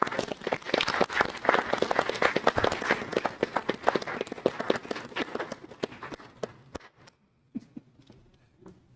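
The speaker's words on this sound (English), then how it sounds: "If we could please give Miss Mary a big round of applause" An audience at a school corporation board meeting claps for several seconds in a dense, close round of applause that thins into a few scattered claps and then stops.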